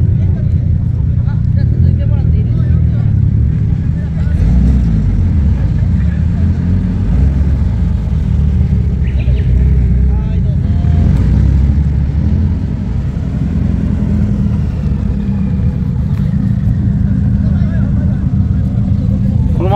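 Loud car engines rumble and idle nearby at a Nissan Silvia and 180SX meeting at a stadium, a dense continuous drone with revs rising and falling while people chat over it.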